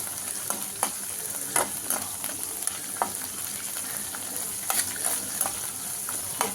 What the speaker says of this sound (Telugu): ఇట్లా వేగాలి.